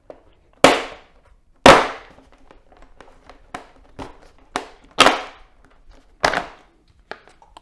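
Plastic middle tank cover pulled off a Yamaha MT-07 motorcycle: several sharp, loud snapping clacks as the clips let go, spaced about a second apart with fainter ticks and rattles between, close up and without speech.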